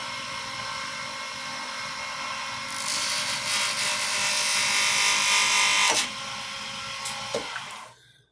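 A wood lathe spins an aluminum pen blank at full speed, about 3,000 RPM, giving a steady high whine. A brighter, louder cutting screech joins midway, then the motor winds down and stops.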